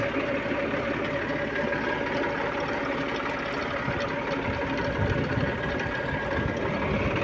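Massey Ferguson 260 turbo tractor engine idling at a steady, low rumble with continuous knocking texture, fairly faint and unchanging throughout.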